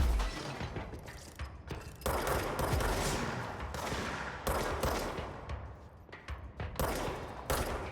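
Gunfire aimed at an enemy in the video game Control, in the MyHouse.wad level, comes in loud repeated bursts and single shots with mechanical clacks and shattering between them, close and without talk.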